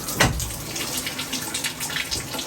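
Water gushes out of a failed shower hose in a steady, close, splashing rush, alone and without talk.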